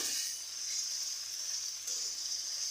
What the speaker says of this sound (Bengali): এখন ভেজে নেওয়ার পর আমি ম্যানেট করে রাখা চিকেনটা প্রথমে রান্না করে নিব